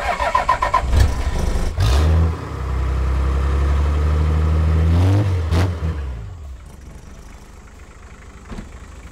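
A Toyota Land Cruiser 60 Series diesel engine cranks, catches and roars to life, settling into a loud, steady idle before the revs drop and fade toward quiet.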